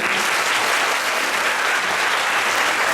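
Continuous loud applause from a large audience at an annual conference's valedictory ceremony, a dense, even wash of clapping that holds steady throughout.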